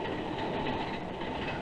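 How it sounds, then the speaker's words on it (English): A commuter train in 1949 New York rolls along in a steady, loud, dense rumble with faint rhythmic wheel clatter and no voices. "A great many of these people make their daily trips by train."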